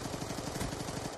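Rapid automatic gunfire in the video game Black Ops 2, a fast rhythmic burst of repeated shots at moderate volume, continuous for about a second.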